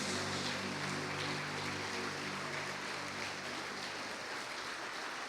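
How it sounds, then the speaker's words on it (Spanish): A church congregation gives God an offering of applause, a steady, dense wash of clapping from many hands that stays fairly distant and even throughout, with no voices standing out. "Démosle fuerte esa ofrenda de palmas a nuestro Dios, hermanos"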